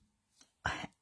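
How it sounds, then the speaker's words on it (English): A single short, quiet cough from a woman with sinus congestion, preceded by a faint throat sound, heard alone in a quiet indoor room. "I apologize ahead of time for all my coughing and hacking."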